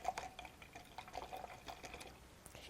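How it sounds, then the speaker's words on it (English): Water runs and drips while a paint brush is rinsed, a soft, irregular trickle and patter with small splashes, fairly close and steady throughout, with no talking over it. "Did you guys hear that water?"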